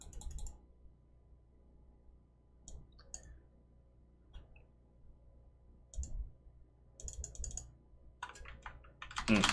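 Scattered bursts of clicks from a computer keyboard, typed in short irregular clusters with quiet gaps between, close and fairly soft, with no talking.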